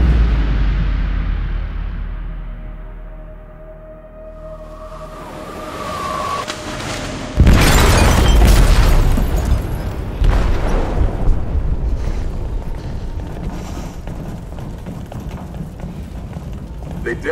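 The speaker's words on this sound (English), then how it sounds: "They detonated an explosive in the hold." A massive explosion rips through a ship's hold in Detroit: Become Human, with a sudden deep, loud blast that follows a rising mechanical whine and gives way to sustained rumbling, crackling debris and roaring turbulence.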